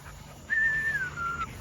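A dog named King makes a soft whimpering, whistle-like whine with light panting, one drawn-out note followed by a shorter one, faint and outdoors with no one speaking.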